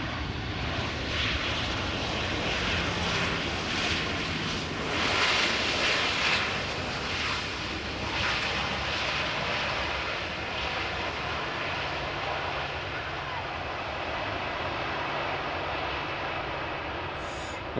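KLM Boeing 737-700 arriving at Amsterdam Schiphol from Billund, a steady near jet engine roar and airflow rush that swells early, then settles into a sustained hum as the plane passes.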